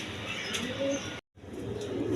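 Giribaz pigeons coo at a pigeon farm near Aminbazar, Gabtoli, Savar, Dhaka, in low, throaty, repeated calls close by, with a brief moment of total silence cutting through the middle.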